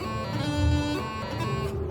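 A bagpipe chanter plays a throw embellishment, a quick cluster of grace notes leading into the melody note, over a steady buzzing drone, close and sustained for nearly two seconds.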